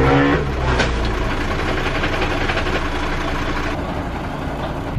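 A racing car's engine idles loud and close at a race weekend, a steady rough rumble with a slight rev at the start. No one talks over it.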